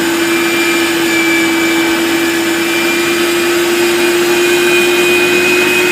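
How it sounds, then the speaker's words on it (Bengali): An electric meat mincer grinds beef into keema in a home kitchen, a loud, steady motor whine with a constant tone running unbroken throughout, with no voices. "এই যে মেশিনটা রেডি করে নিয়েছি, এখন হচ্ছে আস্তে আস্তে সবগুলা কিমা শুরু হয়ে গেছে হওয়া"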